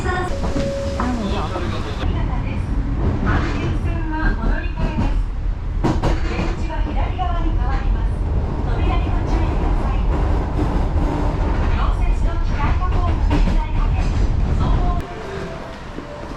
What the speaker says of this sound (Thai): รถไฟ มาแล้ว